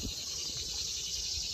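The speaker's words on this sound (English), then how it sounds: "Sorry if it's cicadas, guys. They're everywhere this time of year." Cicadas buzzing outdoors in a dense, steady high-pitched drone that fills the air without pause, with no talking.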